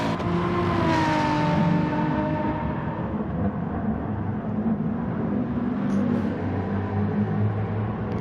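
Race car engine in Gran Turismo Sport at Laguna Seca, a steady loud drone that climbs in pitch early and then holds as the car accelerates, heard close with no talking.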